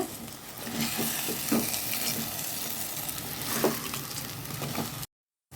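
Crab frying and being stirred into masala in a pan over medium heat for a crab kulambu, a steady close sizzle with scraping stirs and occasional spatula knocks, then an abrupt cut to silence.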